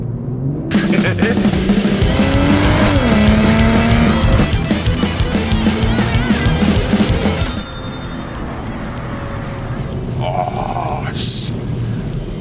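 A BMW M240i's 3-liter turbocharged inline-six roars hard through rising revs as it accelerates, loud and close, then eases to a quieter hum near the end.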